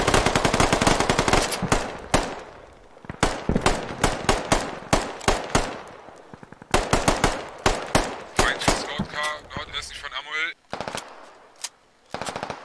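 Bursts of machine gun fire from a British Army Simulator game rattle loud and close, with long rapid strings and short spurts coming back to back and only brief gaps between them.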